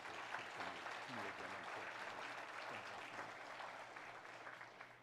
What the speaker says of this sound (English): They give a clap to them